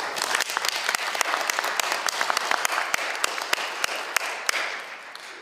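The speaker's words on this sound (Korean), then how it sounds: "박수로." Audience applause at a broadcaster's opening ceremony and national union assembly, a dense, steady roar of many hands clapping with sharp individual claps standing out, sustained throughout and tapering slightly at the end.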